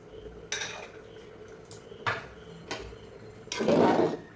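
Khichuri with turmeric and salt being stirred in a pot, a few separate metallic clanks and scrapes of a spoon against the pot spaced apart, close and fairly loud against a quiet background.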